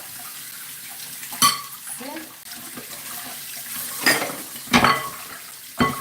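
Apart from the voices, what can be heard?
washing dishes under running tap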